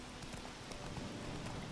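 Horse hooves clip-clop in a quick, even rhythm in The Witcher 3, heard throughout at moderate level over a steady game ambience with no talk.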